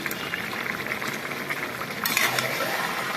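Chopped tomatoes go into frying chicken in a pan and are stirred through, making a continuous sizzle with scraping and utensil clatter that briefly grows louder near the end, with no talk.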